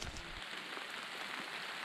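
Steady afternoon rain patters on a brushy mountain hiking trail, a soft continuous hiss with no talking.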